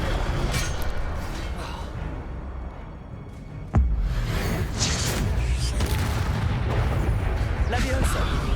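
Incendio fire spell cast in Hogwarts Legacy, a sudden loud blast that bursts out mid-clip and leaves a dense, roaring crackle of flames and combat noise running to the end.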